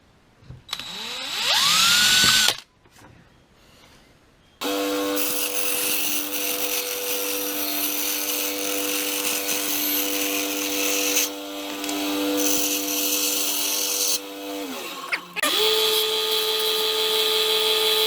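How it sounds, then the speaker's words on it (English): A small drill with a 1.5mm bit whines at a steady high pitch, boring through Lexan for several seconds, with short pauses and pitch dips as the bit slows. "So I always find it easier just to drill these holes while we've got the big piece of Lexan here."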